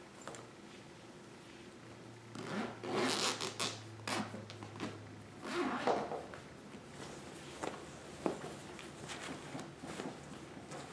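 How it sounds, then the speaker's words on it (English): A zipper on a fabric tote bag is pulled open in a few close, raspy drags separated by soft handling and rustling, quiet overall, with no talking. "Let's unzip it and find out."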